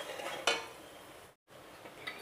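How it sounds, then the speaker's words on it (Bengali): Spice paste being fried and stirred in a pan for soya bean curry: a faint, quiet scraping with one brief clink of utensil on metal, then a short silent gap before the soft stirring resumes. "এবার কিন্তু মশলাটাকে খুব ভালোভাবে কষাতে হবে।"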